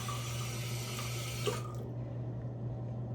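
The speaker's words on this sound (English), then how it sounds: "put some water in my hands." Tap water running into cupped hands at a sink, a steady close hiss over a low hum that cuts off sharply near the middle, leaving only the faint hum.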